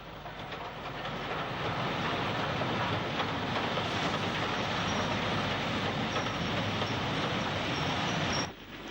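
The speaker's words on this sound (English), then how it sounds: "Black 5 44841 hurries a special freight consisting of banana vans towards Wolverhampton." A Black 5 steam locomotive hauls a special freight of banana vans towards Wolverhampton, a loud continuous roar of rolling wagons and rail noise passing close by for several seconds before it abruptly drops off.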